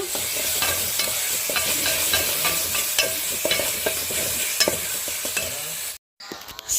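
Masala with chilli powder, turmeric and salt frying in a pan, a dense continuous sizzle with repeated scraping strokes of a spoon, close and loud, cut off by a brief silence near the end.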